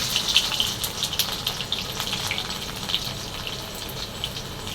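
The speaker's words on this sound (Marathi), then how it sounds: "आणि इथं टाकले मी जिरे जिऱ्याच्या नंतर टाकलं लसूण" Cumin seeds and garlic hit hot oil in a kadhai and set off a loud, close, hissing sizzle full of dense sharp crackles that ease only slightly over a few seconds.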